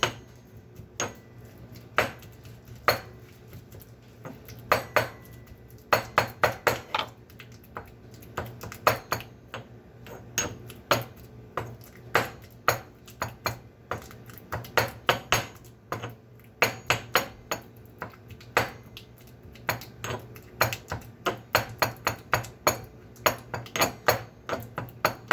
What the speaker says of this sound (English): I'm gonna mash the bananas up. With the mortar and pestle.